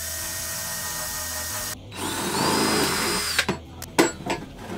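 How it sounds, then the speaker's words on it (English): A power drill whines steadily, then bites into the corner of a heat treat oven with a rising grinding tone before stopping, followed by a few clunks and rattles. "drill a hole right on one corner"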